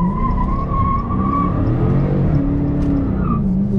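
A car accelerates hard into a turn, its engine revving loud and close as the tires squeal and skid for several seconds.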